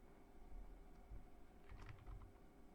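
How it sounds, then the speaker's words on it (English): Faint, quick keystrokes tap on a computer keyboard in a short cluster against a low steady hum, with no voices. "Again I am typing"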